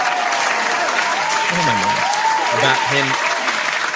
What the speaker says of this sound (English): Hit the applause button on Devon Achane.